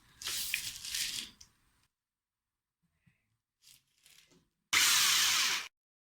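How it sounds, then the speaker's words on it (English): Hand drill boring tuning-machine holes through an elm guitar headstock, in two bursts: a longer whirring stretch at the start and a short steady burst near the end, with a few faint taps between. "drilling the holes for the tuning machines with a hand drill"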